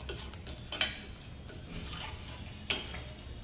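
A spoon clinks against a pan while Kathiyawadi dum aloo curry is stirred, two sharp metallic knocks over a soft, steady background.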